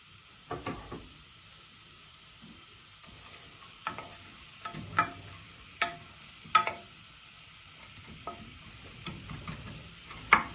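Onions and peppers frying in a pan for a vegetarian chili: faint sizzling bed broken by a series of sharp scraping and tapping stirs with a utensil at uneven intervals, close and otherwise quiet.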